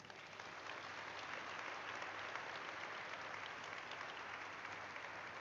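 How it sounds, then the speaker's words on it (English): Sustained applause from a large crowd at a company IPO listing ceremony, dense and steady throughout with no break, filling the hall at an even level. "A big round of applause for all of them"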